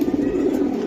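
A pure-blood silver pigeon coos close by in one low, steady, unbroken call.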